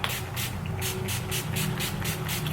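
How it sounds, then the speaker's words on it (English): NYX spray primer misting from a can in a makeup routine, a run of several short hissing bursts in steady rhythm, close and fairly loud over a low background hum. "I've been using my NYX spray primer"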